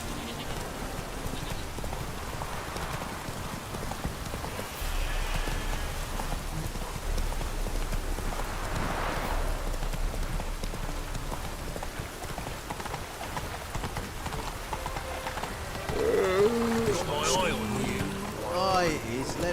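Roach the horse gallops through a Witcher 3 game scene, with a steady rhythmic clatter of hooves under ambient rain-like noise, fairly soft and continuous throughout.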